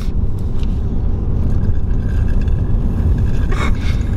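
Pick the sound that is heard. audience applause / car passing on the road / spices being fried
car passing on the road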